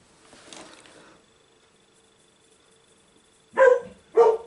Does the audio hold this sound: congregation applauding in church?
no